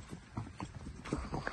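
Horse hooves clip-clopping at the Tulpar Osh horse club stables in Osh, a steady run of close, distinct hoof strikes with no talking.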